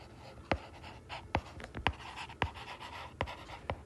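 Handwriting during a math lesson produces a series of sharp taps and short scratchy strokes at an irregular rhythm, close and moderately quiet.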